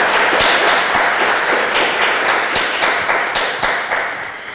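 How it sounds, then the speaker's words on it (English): A crowd applauding steadily, dense clapping that holds throughout and fades slightly toward the end. "Let's give our panel another round of applause."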